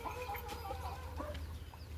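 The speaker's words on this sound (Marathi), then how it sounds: "कोंबड्या शेवाया खाऊ राहिले" Chickens pecking at vermicelli give soft, intermittent clucks over a low, steady background hum, faint and nearby, with no talking.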